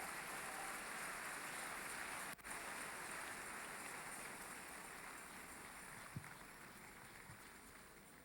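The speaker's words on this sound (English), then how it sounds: "Keep clapping, keep clapping, keep clapping." Steady, dense clapping from a large church audience at a building dedication, heard at a distance, continuing without pause and slowly easing in loudness.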